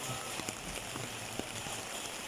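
Rain falls steadily outdoors, a soft hiss of drops on surfaces with scattered brief taps and patters, fairly faint and continuous throughout.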